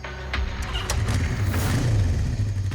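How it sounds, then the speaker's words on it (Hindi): A motorbike rides away at night, its engine revving and droning at mid pitch with a few sharp knocks and clicks, steady and fairly close, without talk over it. "ये कौन जा रहा बाइक पे?"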